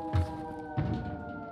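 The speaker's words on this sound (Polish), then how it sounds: "Syrena wyje." An alarm siren wails in the game Dying Light 2, a steady tonal drone carrying on at a distance, with two dull low thumps breaking in beneath it.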